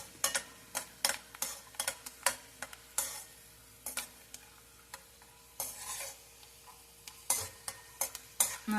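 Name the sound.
peanuts frying in hot oil in a pan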